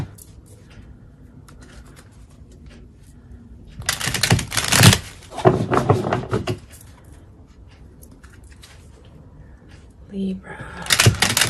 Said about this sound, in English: Gonna shuffle a couple more times.